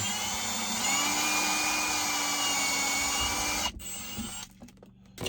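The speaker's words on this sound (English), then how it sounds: "I'm going to drill straight down." Steady high-pitched whine of a power drill running continuously as it drills a hole in plastic, then cutting out and sputtering as it stops near the end.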